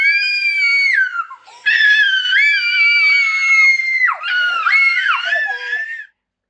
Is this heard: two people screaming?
yes